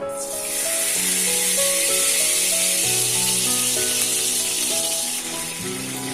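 Ghee heats in a kadhai before marinated chicken is fried for butter chicken, giving a steady, bright sizzling hiss that runs the whole time over soft background music.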